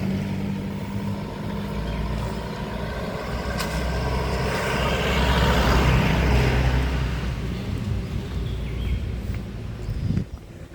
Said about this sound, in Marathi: गाडी आली आणि यांचा आवाज येईल